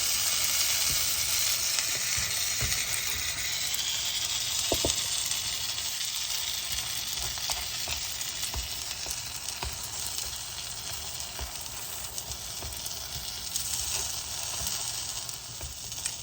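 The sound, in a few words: pesto grilled cheese sandwich frying in a skillet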